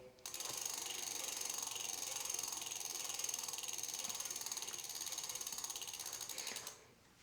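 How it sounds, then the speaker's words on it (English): An electric bike wheel spins with its brake pads rubbing the rotor, giving a steady, rapid ticking whir at close range that runs evenly for several seconds and then stops. "I could hear that the pads are still rubbing"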